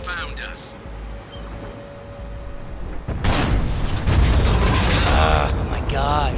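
FV215B 183 tank in a video game firing a high explosive round: a loud, sudden boom cuts in after a stretch of engine rumble, followed by sustained roaring noise with a voice talking over it.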